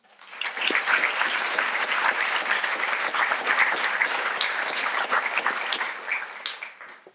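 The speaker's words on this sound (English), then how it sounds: "So please give them and yourselves a round of applause." An audience at a 2018 undergraduate commencement ceremony breaks into sustained applause: dense clapping swells within half a second, holds steady for about six seconds, then tapers off at the end.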